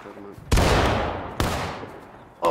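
Musket gunfire in the War of Rights video game during a historical battle event: two loud close shots about a second apart, each with a long rolling echoing tail, and a third shot starting at the end.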